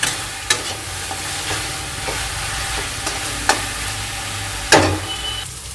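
Ginger garlic paste fries for mutton biryani: a loud, continuous sizzle near the pan, punctuated by a few sharp spatula scrapes and knocks, with no one speaking.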